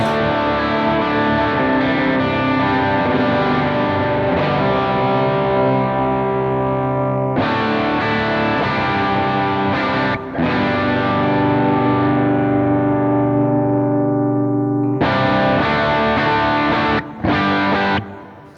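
Sustained electric guitar chords ring out through a Jet Pedals Revelation ambient effects pedal with heavy distortion and washy ambient effects, strummed in long, overlapping swells with brief breaks between.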